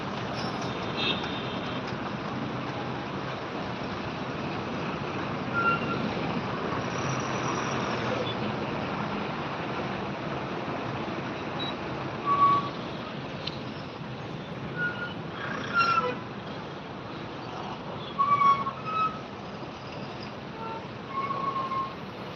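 Jammed truck and car traffic on the Khambatki ghat road drones in a steady, distant roadway rumble, with a few brief louder vehicle sounds and faint voices.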